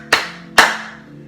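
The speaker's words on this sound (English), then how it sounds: "clapping 3 times" Two sharp, close hand claps about half a second apart, each with a short room ring, alone and without talk.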